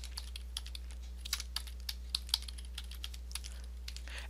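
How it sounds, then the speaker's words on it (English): Quiet, fast clicking of computer keyboard keys as a search query is typed, irregular taps with a few louder strokes over a low steady hum. "put a quote mark and then type in Young Goodman Brown"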